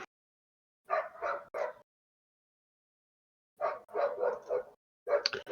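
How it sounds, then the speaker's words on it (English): Dogs bark in short clustered bursts separated by silence, several rapid barks at a time, moderately close. "You guys hear those dogs barking, right?"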